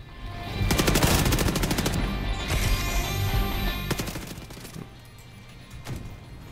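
Rapid bursts of automatic gunfire in The Division 2, a dense fusillade of sharp cracks for several seconds that thins out into a few scattered shots.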